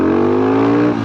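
A 2009 Husqvarna SM610 supermoto engine revs loud and close in a steady, sustained drone with a strong buzzing tone, holding high revs and then dropping slightly at the very end.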